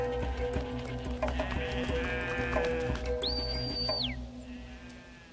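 A herded goat flock in Gir forest, India, with a bleat rising above steady outdoor background and a long high whistle from the herder partway through.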